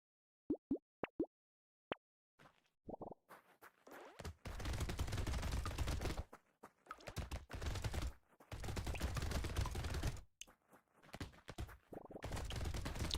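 Rapid SMG gunfire in the video game Brotato, dense bursts of quick popping shots in long stretches, preceded by a few isolated plops and clicks, with short gaps between sustained volleys; no talking.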